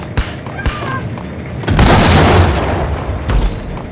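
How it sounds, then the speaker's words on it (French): A grenade goes off in the video game Max Payne, a loud, sustained booming blast that rolls on for about two seconds after a few sharp pops and clatter, with a brief voice beforehand. "Je vais quand même balancer une grenade, on sait jamais."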